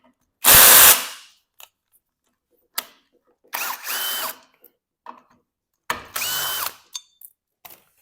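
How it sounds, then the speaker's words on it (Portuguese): A power tool drives out Torx T30 screws on a Wabco EBS modulator from a Mercedes Actros truck, in several loud separate bursts of about half a second to a second, with short gaps and faint clicks between them. "Tirando esses 4 parafusos,"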